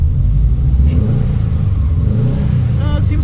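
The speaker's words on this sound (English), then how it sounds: "If I give it a little bit of throttle," A JDM EJ207-swapped Subaru WRX wagon engine rumbles close by as light throttle is applied, giving a low steady revving drone.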